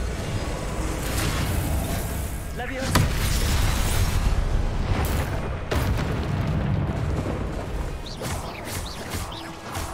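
Spell blasts in the Hogwarts Legacy video game sound as a series of booming explosions and crashes, with a loud burst near the middle and another after it, layered over a busy, rumbling game soundscape.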